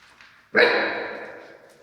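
A puppy gives a single loud, close bark that trails off into a short ringing tail after a quiet start.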